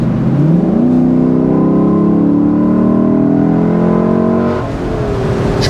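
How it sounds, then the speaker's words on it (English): A 2023 Lexus LC 500's naturally aspirated V8 pulls hard through rising gear-like tones, a loud, steady engine growl climbing in pitch for several seconds before easing slightly near the end, with no talking. "A naturally aspirated V8 engine is just a dying breed"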